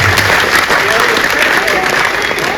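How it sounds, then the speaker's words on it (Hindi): An audience at a Hindi kavi sammelan poetry recital breaks into loud, sustained applause, a dense wash of clapping from a large crowd that fills the whole stretch. "कविता खत्म होती है, दोनों हाथ उठाकर ताली बजाएं।"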